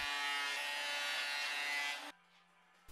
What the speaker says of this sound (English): I run the boards through the planer to get them to just above the thickness I want